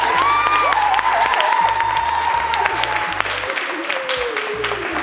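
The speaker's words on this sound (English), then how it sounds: "Now clap for me, guys." Audience at a residence hall talk breaks into applause, a steady wash of many hands clapping near and loud with faint cheering mixed in, sustained for the whole stretch.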